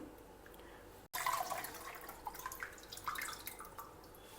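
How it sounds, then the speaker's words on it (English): Water poured into a cup of tamarind for extracting juice while cooking South Indian rasam, heard as a close, steady trickle and dribble that starts abruptly and continues with small splashes. "Now I am adding one more cup of water to extract the tamarind juice completely."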